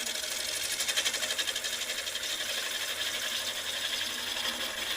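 A wood lathe hollows a vessel with a HollowPro winger tool, throwing shavings across the floor: a steady, loud scraping cut with a fast rhythmic chatter running continuously throughout.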